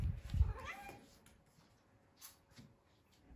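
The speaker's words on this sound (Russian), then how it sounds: "Кот играет." A cat plays and meows indoors amid household clutter. A few clear, fairly close meows come first, then quieter rustling and soft scattered sounds follow.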